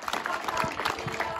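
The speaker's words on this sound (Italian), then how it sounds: "tributiamo con orgoglio il nostro applauso" Public applause at a Liberation Day ceremony on 25 April in Avigliana, a brief burst of crowd clapping, fairly close and dense, over a short stretch.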